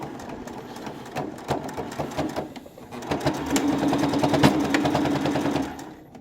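A sewing machine runs a steady, close-up stitching burst along the final hem of a fabric tabard, its rapid mechanical whirr rising and then stopping as the seam is finished.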